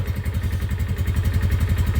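A Chinese Musstang motorcycle engine turns over after a long winter layup and runs with a rapid, even thumping pulse, loud and close, with no one speaking.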